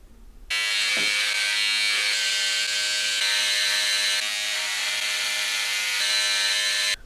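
Electric razor buzzing loudly and continuously as it shaves hair, starting abruptly after a quiet moment and holding a steady whine to the end.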